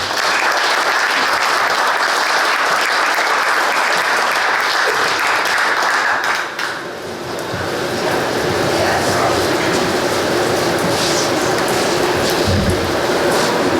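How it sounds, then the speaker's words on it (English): Sustained audience applause for a farm family walking up at a Rice County agriculture awards event, a dense continuous roar of clapping that dips briefly midway and then carries on strongly. "Give them a round of applause on their way up here, folks."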